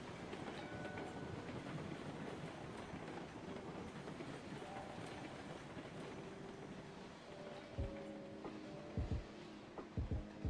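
A heavily loaded freight train carrying logs rolls along the rails in a Roblox railway game, a faint, steady rumble, with a few sharp clicks and clunks of wheels over rail joints toward the end.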